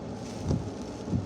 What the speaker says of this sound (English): wind effects off this bridge and off this building could be enhancing the wind for sure